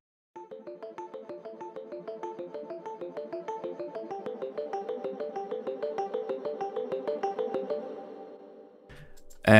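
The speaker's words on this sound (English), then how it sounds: "Here is a mallet played by Serum." A synth mallet patch from the Serum synthesizer plays a fast, even run of bright, plucky notes in a repeating melodic figure for about eight seconds, then stops abruptly before a brief final hit.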